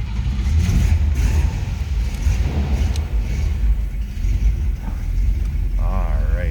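A 1962 Cadillac Series 62 coupe's engine runs steadily with a loud, low rumble that stays close throughout, and a faint voice comes through underneath it.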